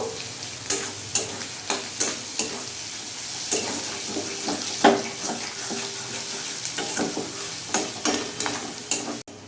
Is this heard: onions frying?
yes